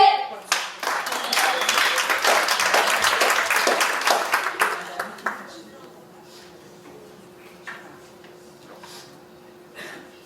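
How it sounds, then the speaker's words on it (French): An audience at an evening dance event applauds for Marie-Josée, a lively burst of many hands clapping for about five seconds before dying to scattered claps and murmuring voices. "On applaudit très fort Marie-Josée"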